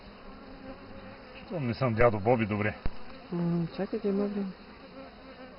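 Honeybees buzz around a frame lifted from a hive with a built-in honey super, a steady close hum running under people talking nearby.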